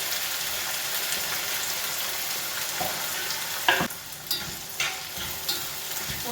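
Curry leaves, onion and ginger fry in hot oil for garlic pickle, a steady close sizzle throughout with a few clacks from stirring near the end.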